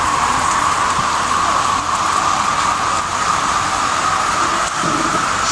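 Steady, dense hiss of heavy typhoon rain pouring without pause during flooding in Antipolo City, a continuous loud wash with no voices.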